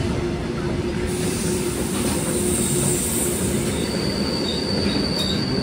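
A goods train rolls through Devarakadra station on a crossing, with a continuous loud rumble of wagons and high, steady wheel squeal nearby, heard alone without talk.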